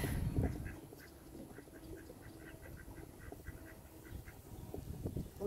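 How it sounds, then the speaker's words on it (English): A male duck quacking as it answers other ducks nearby, a run of soft, fairly distant repeated quacks over low background noise. "He's reacting to other ducks."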